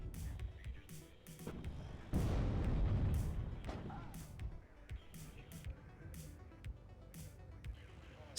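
Mortar artillery fires in the WARNO strategy video game, with repeated booms and thumps, one heavy rumbling blast near the middle, and faint battlefield noise between shots.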